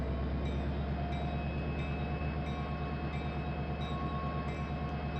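A GP35 diesel locomotive in the Trainz simulator hums with a steady low engine drone as it starts pulling a long train with brakes released and throttle notched up, continuous and close with faint periodic clicks.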